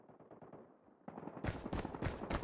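Rapid Call of Duty gunfire erupts after a quieter opening of muffled combat noise, becoming loud, dense bursts of automatic shots that continue to the end.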